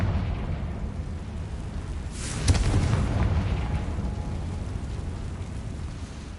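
A Confringo explosive spell goes off in Hogwarts Legacy with one sudden, fairly close blast, then a rumbling tail that fades slowly over a low ambient roar.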